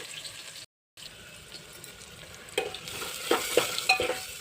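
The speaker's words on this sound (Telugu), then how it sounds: "ఆవాలు వేసేసా ఇందులో పచ్చిమిరపకాయ ఉల్లిపాయలు" Mustard seeds, green chillies and onions frying in a pan for curry, a steady soft sizzle with brief stirring scrapes and clinks growing louder toward the end, after a short silent gap; no talk.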